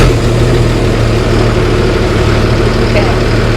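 A vehicle engine idles loud and close during a pre-trip inspection, a steady low rumble that holds throughout with no breaks, while speech is faintly present.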